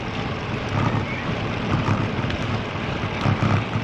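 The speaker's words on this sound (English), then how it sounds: "Plenty of wind gusts" Strong wind gusts buffet the microphone of a rider heading east into a headwind under a threatening sky, a steady broadband roar that swells in repeated low-heavy surges, loud and close throughout.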